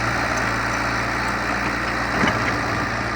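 The engine of an excavator crane working at a canal runs steadily with a loud, low diesel rumble. Its throb stays even throughout, with no voices over it.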